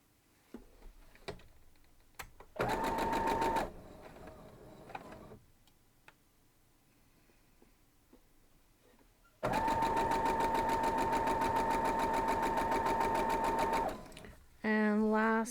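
Machine stitching on a sewing machine joining Ohio star quilt block pieces comes in two loud steady runs, one short and one longer, separated by quiet handling clicks and brief speech.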